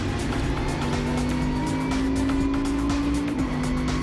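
Race car from the K-PAX team pulling out of a hairpin at Utah Motorsports Campus, a steady loud engine drone rising in pitch as it accelerates, with some chatter from running over curbs, heard close from onboard.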